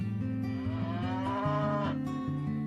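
A cow moos in long, drawn-out, fairly close calls with no voices over them, in the setting of a small farm.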